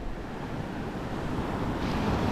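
Wind on a beach at Relax Bay, Koh Lanta, in low season, blowing as a steady broadband rush and buffeting the microphone, with surf noise mixed in and no voices.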